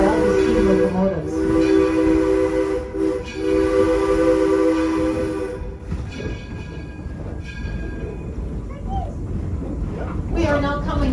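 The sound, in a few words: steam locomotive running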